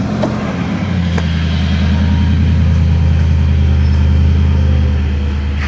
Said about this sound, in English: So there's only one thing left to do, and that's to start the car.